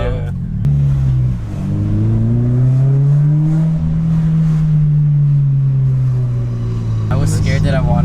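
A Subaru BRZ with a single exit exhaust revs loudly and close, the deep droning engine note climbing and holding steady for several seconds before a sharp change near the end.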